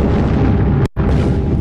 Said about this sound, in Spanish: bombas caen sobre la ciudad del Vaticano